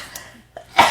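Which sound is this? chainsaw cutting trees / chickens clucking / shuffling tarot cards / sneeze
sneeze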